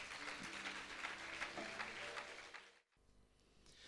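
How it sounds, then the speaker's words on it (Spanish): Church congregation applauding together, a dense wash of clapping hands filling the room for nearly three seconds before abruptly thinning out into a quieter murmur. "¿Cuánto le dan un aplauso al Señor por eso?"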